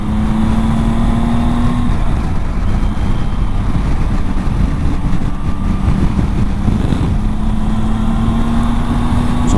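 A Triumph Tiger 800 triple-engine motorcycle accelerating to pass cars, its engine droning loud and steady with a rising pitch under heavy wind buffeting on the rider's microphone.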